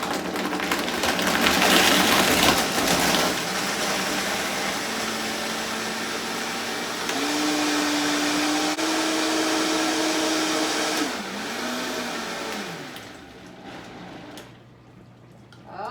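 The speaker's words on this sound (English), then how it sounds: "we're going to start at the bottom level, get it mixing. Hear the ice there." Blender mixing a green smoothie with ice, a loud steady motor roar with the crunching ice, changing pitch as the speed shifts and then winding down near the end.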